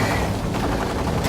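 Rapid bursts of gunfire from a Wolfenstein 2 cutscene, dense and continuous like machine-gun fire, loud and unbroken throughout with no voices.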